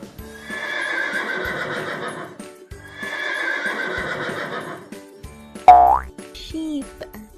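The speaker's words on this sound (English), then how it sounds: "Horse says neigh," A horse neighs twice, two long loud whinnies in succession, followed by short cartoonish boing-like sound effects.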